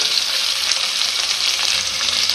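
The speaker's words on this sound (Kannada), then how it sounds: "ಇವಾಗ ಇದನ್ನೆಲ್ಲ ಹಾಕ್ಕೊಂಡು ಸ್ವಲ್ಪ ಒಂದು ಎರಡು ನಿಮಿಷ ಫ್ರೈ ಮಾಡ್ಕೊಬೇಕು" Carrots, beans, peas and potatoes frying with golden-brown onions in a pan, a loud, dense, continuous close sizzle with a steady hiss and no talking.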